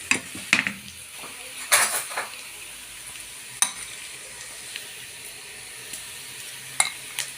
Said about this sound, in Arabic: نزلت عليه فصين توم.